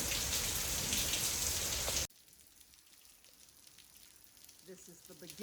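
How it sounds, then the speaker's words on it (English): Heavy rain from Hurricane Delta pours in Central Louisiana as a loud dense hiss, then drops abruptly to a softer patter of falling rain with faint sounds in the background. "this is a little of the rain that we're experiencing now"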